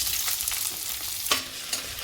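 Garlic and cumin frying in a mix of ghee and oil, a dense hissing sizzle close by with a couple of faint utensil knocks, no speech.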